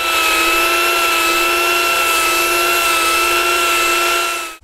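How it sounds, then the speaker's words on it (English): A mini grinder fitted with a coarse sanding disc whines steadily at high speed while shaping a solid wood tray, a loud continuous tone with no talk that cuts off abruptly at the end. "I'm now going to finish off the shaping using a mini grinder with a sanding disc."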